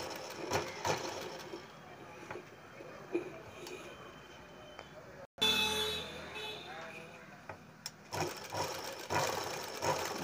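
A sewing machine stitches a Punjabi full collar neck in bursts of steady mechanical whirring, stopping briefly before starting again up close, with a voice talking over it.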